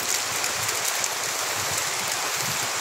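Steady rain falling outdoors, a dense continuous hiss of drops on surfaces, even and unbroken throughout with no voices.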